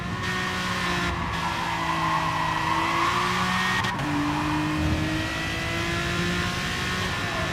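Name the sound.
Aston Martin DBR9 race car engine in Gran Turismo Sport video game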